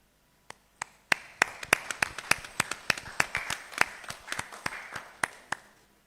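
Scattered, distinct claps at a press briefing for election technicians, starting with a few isolated hits and building into a sparse, uneven round of applause from a small group nearby.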